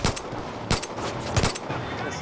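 A hand cannon fires in Far Cry 5 during a wild boar hunt with ATVs nearby: three sharp, loud shots spaced about two-thirds of a second apart, close and punchy over continuous game noise.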